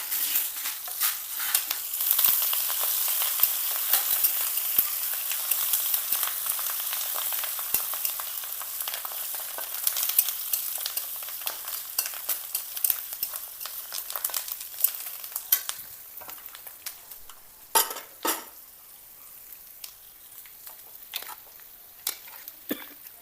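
Green chillies and ginger frying in a pan, a steady crackling sizzle with occasional louder pops and stirring scrapes that eases off slightly toward the end, heard alone without talk.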